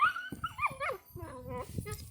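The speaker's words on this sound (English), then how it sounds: "Puppy!" A puppy whimpers and whines in a few rising, wavering cries, close and fairly soft, with some low rustling beneath.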